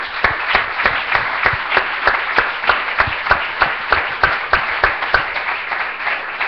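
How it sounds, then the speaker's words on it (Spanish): A church congregation applauds in praise, a sustained stretch of rhythmic, in-time clapping with regular beats, loud and close throughout, with no speech over it. "¿Por qué no le damos un aplauso al Señor, hermano?"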